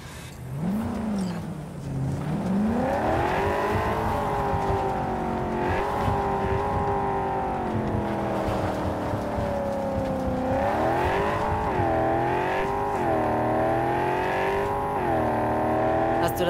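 A car pulls away in Cyberpunk 2077, its engine revving up and holding a loud, steady drone with shifting pitch as it accelerates, plus a brief rise and fall near the start.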